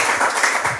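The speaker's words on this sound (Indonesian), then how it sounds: "Yang percaya berikan tepuk tangannya mereka Tuhan Yesus." A church congregation at an Indonesian Sunday worship service applauds, a dense, steady wash of clapping from many hands in a large room, loud and continuous throughout.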